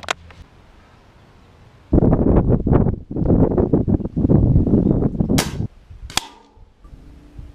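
Pellet gun fired at a backyard target, a few sharp cracks standing out near the close mic between a long stretch of rustling, windy handling noise.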